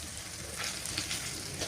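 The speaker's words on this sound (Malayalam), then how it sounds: "ആ വെളുത്തുള്ളിയും ഇഞ്ചിയും കൂടെ ഈ നടുക്ക് നമ്മൾ ഒഴിച്ച ആ വെളിച്ചെണ്ണയിൽ ഒന്ന് അതിൻ്റെ പച്ചമണം പോകുന്നത് വരെ ജസ്റ്റ് ഒന്ന് ഇളക്കിയെടുക്കണം" Garlic and ginger sizzle softly in coconut oil while being stirred in a pan for beef fry, a low crackling hiss with light scraping, quiet and steady.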